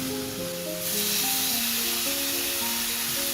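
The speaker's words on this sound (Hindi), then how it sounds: "इसको हम दूसरे साइड से भी इसी तरह अच्छा सा कुक होने देंगे।" Chicken steak frying in a pan over a low flame, a steady close sizzle and hiss that swells slightly partway through and continues evenly without talk.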